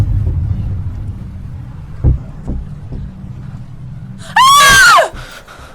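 A woman lets out one loud, piercing scream near the end, short and wavering, after a quiet stretch of low hum and a few soft thuds; she is alone, with no talk around it.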